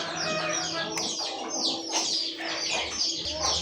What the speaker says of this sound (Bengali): খুব সুন্দর একটা টাইগার গোল্লা কবুতর ভাই